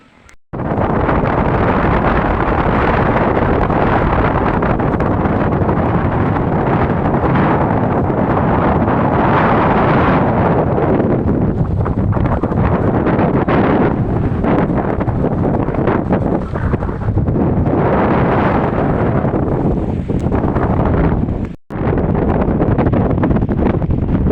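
Strong wind roars and buffets the microphone continuously, a dense, loud rushing that rises and falls in gusts for the whole stretch.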